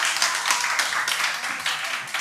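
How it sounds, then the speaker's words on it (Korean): Children at a Sunday worship service clapping together, a short burst of rhythmic, slightly uneven claps lasting a couple of seconds, close and fairly loud with no talking over it. "박수."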